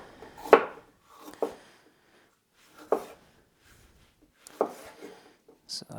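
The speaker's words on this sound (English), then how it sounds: "I have this yellow pepper. I'll just cut into some strips." A knife slices a yellow pepper into strips on a cutting board, making five separate sharp chopping taps spaced unevenly in a quiet room.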